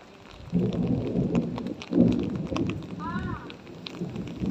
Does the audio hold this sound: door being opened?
no